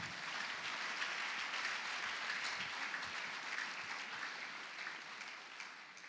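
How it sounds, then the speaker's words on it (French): A church congregation at a Sunday service applauding together, a steady, dense wash of many hands clapping at a moderate distance, holding even throughout and easing off slightly at the end. "si vous pouvez d'abord commencer par acclamer pour moi"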